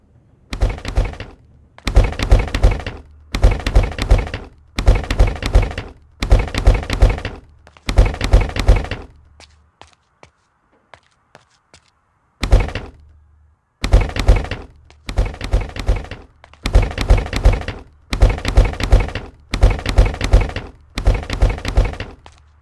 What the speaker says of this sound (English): Start destroying these little appliances,